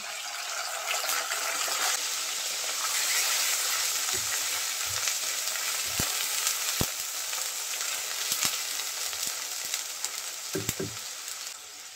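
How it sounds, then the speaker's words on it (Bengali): Chopped onion, bay leaf, green chili and onion paste fry in hot oil with a constant close crackling sizzle, punctuated by scattered spatula knocks and scrapes against the pan. "একটা পেঁয়াজ কুচি দিয়ে দেব, তেজপাতা, কাঁচামরিচ, পেঁয়াজ বাটা।"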